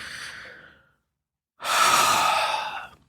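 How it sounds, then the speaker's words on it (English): A person on a tapping exercise takes a deep breath, a short breathy inhale followed by a pause, then a longer, louder sighing exhale, close and alone. "take a nice big deep breath for me"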